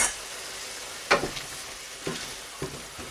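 Stock ladled into a hot pan sizzles and crackles while deglazing for pork adobo, a soft steady fry hiss broken by a few sharper spits and pops, with no voices.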